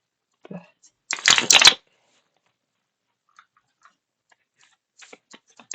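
A Mystical Rose Oracle card deck is shuffled in one brisk, loud riffling burst lasting under a second. A few faint ticks and soft noises follow in near silence.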